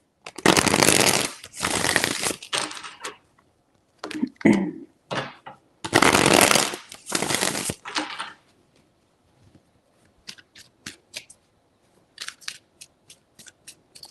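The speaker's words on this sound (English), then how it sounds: "Three shuffles." A deck of tarot cards is shuffled in several loud, crisp riffling bursts, followed by softer taps and flicks as the cards settle, close up with no talk.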